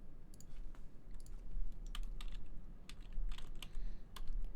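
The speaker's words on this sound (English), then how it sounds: "I have a keyboard that acts up." Fast, uneven typing on a computer keyboard that acts up, with clustered key clicks over a steady low background hum, close by and moderately loud, no talking.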